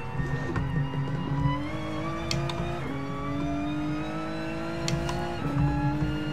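A race car accelerates out of a corner in Gran Turismo Sport on PS4 Pro. The engine note climbs steadily through several gear changes, loud and close, with no talking.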